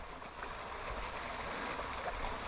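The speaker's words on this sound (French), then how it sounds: "Ce petit ruisseau là." A small stream flows nearby during a fishing outing, a steady soft rush of water with faint trickling, continuous and even.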